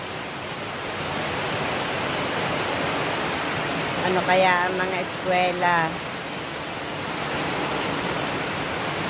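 Heavy rain pouring steadily onto a roof during a typhoon, a dense constant hiss at close range, with a person speaking briefly partway through.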